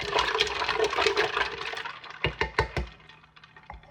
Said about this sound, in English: And then the ice. I'm going to stir it around.